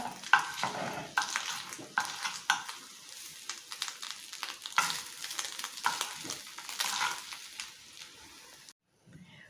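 Fluffy soufflé omelette of two eggs frying in a pan, soft sizzling crackle with scraping and tapping as a utensil works under it and turns it over, ending in a brief silence.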